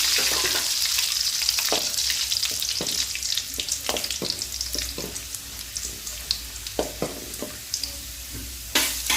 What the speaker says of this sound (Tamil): வதங்கினோடனே காஞ்ச மிளகாய் போட்டுக்கலாம்.